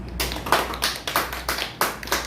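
Scattered hand claps and light applause from a small group, close and fairly quiet, with irregular taps over a low hum.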